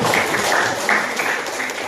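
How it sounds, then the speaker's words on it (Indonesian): A classroom group claps for a student during a lesson, a steady dense patter of many hands filling the short stretch at full volume without pause. "tepuk tangan untuk Renaldi."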